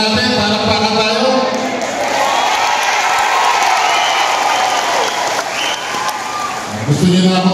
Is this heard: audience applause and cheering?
yes